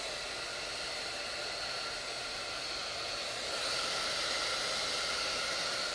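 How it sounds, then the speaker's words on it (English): A hair dryer on a low heat setting blows steadily with a constant airy whoosh, growing slightly louder and brighter partway through, with no talking. "this is just a regular blow dryer on a low heat setting"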